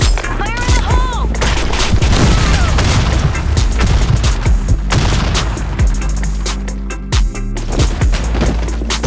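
Battle sounds from the BlackShot shooter game: loud, dense gunfire and booming grenade explosions crowd the whole stretch, with shouted voices mixed into the din.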